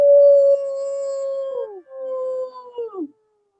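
Howling in imitation of a wolf pack, sustained tones that hold steady and then slide downward in several waves, loud and near, with no speech over it.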